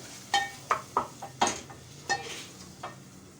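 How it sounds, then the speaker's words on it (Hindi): A spoon stirs a vegetable curry with spices, ginger and garlic in a pan, giving about seven distinct scraping strokes in an uneven rhythm over a faint sizzle. "अब मैं इसको अच्छे से मिक्स करूँगी।"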